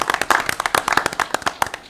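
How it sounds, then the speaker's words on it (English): A short burst of clapping at a Putnam County commission meeting, a small group applauding Public Works staff with loud, uneven close hand claps for about two seconds, no talking over it. "Let's give them a round of applause"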